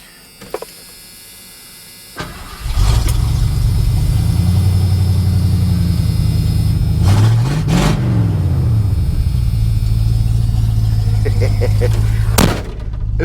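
A 1986 Ford F-150 bull-nose short bed with homemade dual exhaust and cherry bomb mufflers cranks and fires up, then settles into a loud, rumbling idle. It gives a couple of revs that rise and fall before cutting off near the end.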